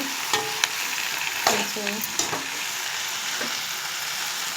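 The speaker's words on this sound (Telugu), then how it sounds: "ఫ్రై అవ్వాలి." Egg and amaranth leaves fry in a pan with a steady, soft sizzle, punctuated by a few sharp clinks of stirring near the start and middle, while a voice speaks briefly.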